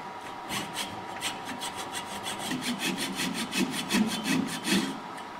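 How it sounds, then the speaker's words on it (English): A hand saw slices down the wooden corners of a grizzly candle holder, giving steady, rhythmic back-and-forth rasping strokes, close and continuous throughout with no talking. "So I'm going to slice these corners down a little bit too."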